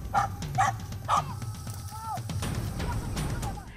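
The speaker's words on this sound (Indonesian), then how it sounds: "anjingnya tuh cuma mau gonggong aja buat nakutin biawaknya" A dog barks and yips sharply at a monitor lizard outdoors, several quick barks in a row followed by a whining, whimpering tone over a rustling background.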